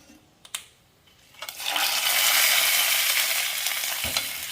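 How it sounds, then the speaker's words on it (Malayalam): A hot ghee tempering of mustard seeds, fenugreek, red chillies and curry leaves poured into rasam, a couple of light clinks then a sudden loud, sustained hiss and sizzle that holds close by and slowly eases. "കടുക് വറുത്തത് കറിയിലേക്ക് ചേർക്കാം"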